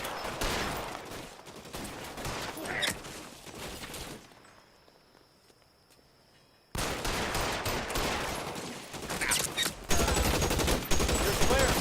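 Gunfire in the L.A. Noire video game comes in bursts of rapid shots, loud and dense. A quiet gap falls in the middle before the firing resumes, and voices are heard at times.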